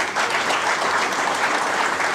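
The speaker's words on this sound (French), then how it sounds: "Je souhaiterais que vous puissiez faire un applaudissement pour le Cameroun." An audience applauds at a building inauguration ceremony, a dense, steady clatter of many hands clapping at once, loud and sustained.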